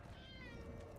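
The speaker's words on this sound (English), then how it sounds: "My cat is here now, just screaming at me." A pet cat meows loudly at close range in one drawn-out, wavering call.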